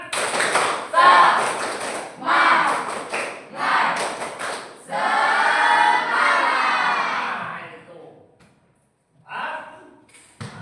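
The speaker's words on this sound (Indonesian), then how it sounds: "Tepuk semangat." A classroom of students performs the tepuk semangat clapping chant, rhythmic bursts of group clapping mixed with chanted voices in several phrases, then a brief pause and a final short burst.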